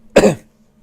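A single sharp cough, close and fairly loud, trailing off quickly into quiet with a faint steady hum underneath.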